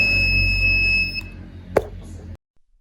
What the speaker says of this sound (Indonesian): buzzer akan berbunyi putus-putus